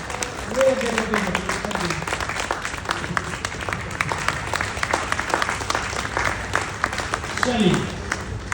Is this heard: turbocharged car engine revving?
no